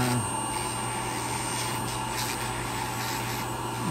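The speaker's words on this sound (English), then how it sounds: "I'm gonna grind the nails down as much as I can today." An electric nail grinder working down thick diabetic toenails, a constant high whine with a steady abrasive rubbing hiss, close and continuous.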